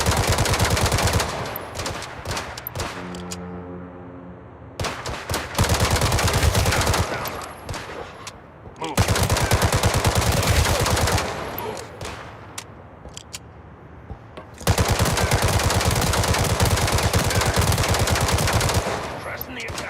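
Gunfire in the video game Gangstar Mirage City: long, loud bursts of rapid automatic fire broken by short pauses, close and continuous, with game sounds between bursts and occasional voices.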